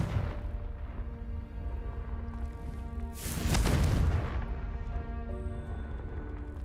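A Confringo fire spell is cast in Hogwarts Legacy and goes off as a single loud whooshing blast midway. It swells into a roaring burst over a low game music drone, then fades gradually.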